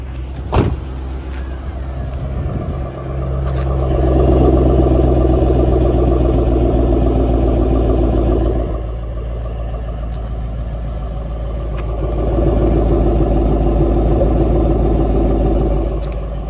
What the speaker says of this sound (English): listen to those dual exhausts while the car is idling